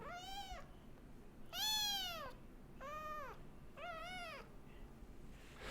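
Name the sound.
cat meowing loudly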